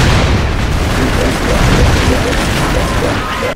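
Loud, continuous rumbling booms of explosions in the video game Broforce, dense and heavy throughout with no pauses, no speech heard.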